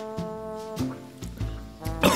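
Several short coughs break in at intervals over a steady tonal hum, ending with a harsher, louder burst.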